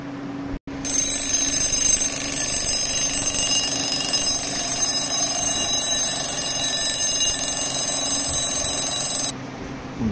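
A brand-new military-model table alarm clock rings loudly and continuously, a harsh metallic bell clatter that starts abruptly, holds steady for about nine seconds, then cuts off.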